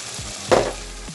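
Chicken giblets stir-fried with ginger and scallions give a brief sizzling burst with a scrape of the spatula in the middle, over a low steady hiss, with no voices.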